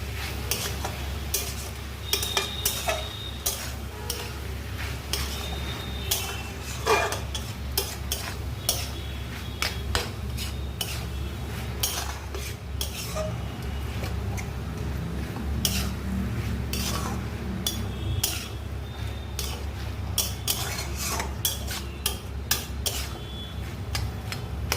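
Chicken bharta being stirred in a pan: a long stretch of close, steady scraping and tapping of a utensil against the metal, in a continuous uneven rhythm, with no voices.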